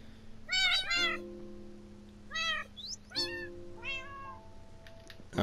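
Minecraft cat meowing in a game world, several short, clear meows spaced apart over a steady low electronic hum, fairly near and alone with no talk.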